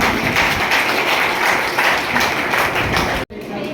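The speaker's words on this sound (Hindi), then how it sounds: "एक बार मैडम के लिए भी जोरदार ताली" Meeting attendees break into loud, dense applause, a continuous clatter of many hands clapping close by that fades briefly near the end before a short burst resumes.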